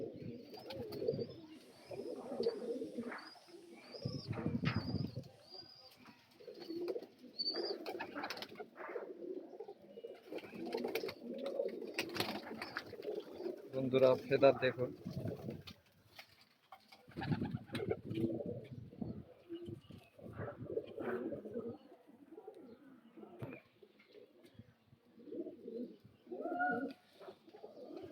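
A pair of Kalanka pigeons with their young coo in soft repeated bursts close by, while someone talks intermittently over them.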